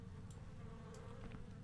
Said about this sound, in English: I bet there's wasps.